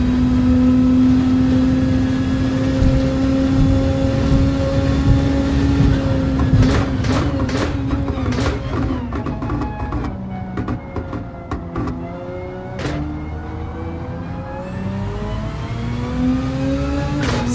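Race car engine in Gran Turismo 7 on a Tokyo circuit, short-shifting: a loud, steady engine tone, then a series of quick gear changes with rising and falling revs and brief cuts in power, heard close.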